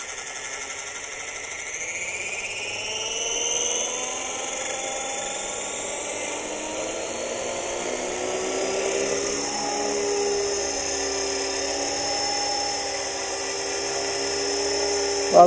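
A T-Rex 450 RC helicopter flies at a model flying club in Barbacena, Minas Gerais, its high-pitched motor and rotor whine running continuously throughout, rising and falling slightly in pitch as it manoeuvres.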